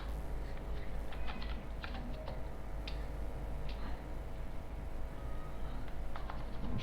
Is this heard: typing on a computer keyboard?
yes